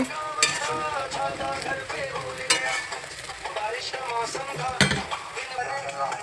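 Paratha frying in a pan, a steady sizzle broken by occasional sharp scraping and stirring knocks of a utensil against the pan, close and fairly quiet, with no talking.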